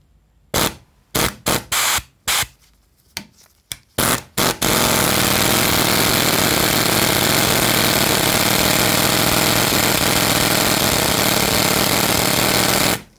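Vibro Impact glow plug remover on its first setting, hammering at a seized brake bleed nipple: several short rattling bursts, then a continuous loud buzzing hammer that runs steadily to the end.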